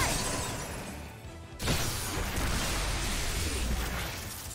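An ice magic attack bursts in the Octopath Traveler II battle, with a sudden loud shattering crash that leads into a sustained crackling, glassy wash which lingers and slowly fades.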